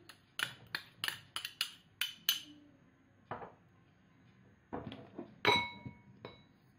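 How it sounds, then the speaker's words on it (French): Dry ingredients and pepper being stirred in a bowl for watercress fritters: a quick series of light, close clinks of a utensil against the bowl, a pause, then a few more taps and rattles. "donc on va un peu mélanger donc les éléments secs"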